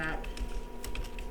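Keys tapped on a computer keyboard while entering short text, a few quick clicks in a brief burst over a steady background hum.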